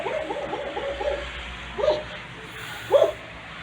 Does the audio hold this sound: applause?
no